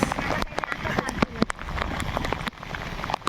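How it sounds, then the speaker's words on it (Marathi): Heavy rain pours down on a farm field during rice planting, a loud dense patter with sharp drop impacts close by, while people talk through the downpour. "जोरदार पाऊस आले जोरदार काय दादा पाऊस आले पाऊस"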